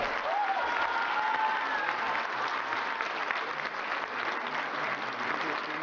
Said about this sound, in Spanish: Un aplauso para el presidente López Obrador, que se oiga de aquí a Palenque